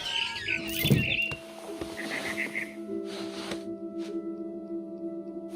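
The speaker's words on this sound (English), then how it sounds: "Then I heard chirping outside my window. It was a barn swallow going back to her nest." A barn swallow chirps in quick, high twittering bursts over a steady electronic hum and tones in the game What Remains of Edith Finch, with a brief louder rustle near the start.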